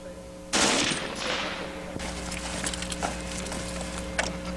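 Burst of automatic fire, likely from a World War II MG-34 machine gun at an Alabama shoot, opening with a loud blast and followed by a rapid rattling string of shots with echo.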